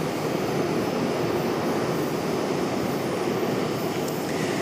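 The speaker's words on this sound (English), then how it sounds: "PSA Airlines coming in from Philadelphia, CRJ 701ER." A PSA Airlines CRJ-701ER arriving from Philadelphia produces a constant, moderately loud jet rumble with broad hiss and no talk over it.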